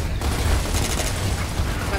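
Sustained gunfire in Gears of War, a dense, loud burst of rapid shots and booms filling the whole moment.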